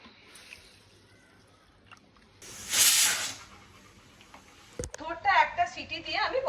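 A pressure cooker boiling banana stem lets out a sharp burst of hissing steam, then after a pause a rising, sputtering whistle-like release, close and loud in a quiet kitchen.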